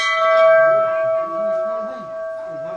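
A temple bell at the Jatmai Mata temple rings with a bright, sustained metallic tone that decays slowly across the whole moment, loud and close, with faint voices murmuring beneath it.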